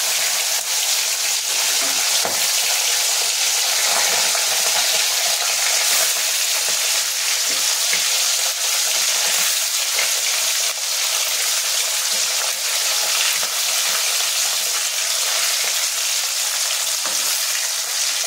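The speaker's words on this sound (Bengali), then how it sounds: "এবারে আমরা পার্শে মাছটাকে প্রথমে ভেজে নেব। এই মাছটা খুব হালকাভাবে ভাজা হবে আর এটা পুরোটাই সাদা তেলে ভাজাটা হবে।" Parshe fish sizzles lightly in white oil, a steady, dense frying crackle holding at an even level throughout, with occasional small pops and no voices.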